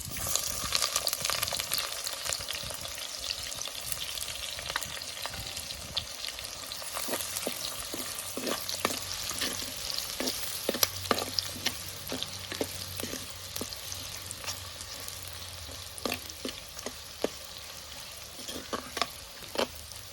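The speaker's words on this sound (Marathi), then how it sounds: "तर कांदा आपला चांगला परतून झाला आहे" Chopped onion sautés in a pan with bay leaves and crushed garlic in oil, making a constant close sizzle broken by frequent sharp clicks of a spoon stirring and scraping the pan.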